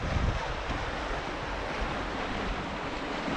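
Waves wash steadily past a sailboat running downwind wing on wing, with a constant hiss of water and breeze, loudest in the opening moment and then even.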